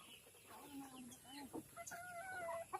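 Native chickens cluck and squawk in short, varied calls at close range, several overlapping bursts over a few seconds with faint background noise.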